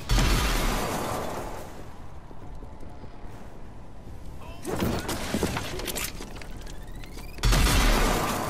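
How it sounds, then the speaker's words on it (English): Grenades exploding in Rage 2, heavy booming blasts at the start and again near the end, with crackling debris and gunfire-like bursts filling the middle. "he's throwing grenades at me all the time"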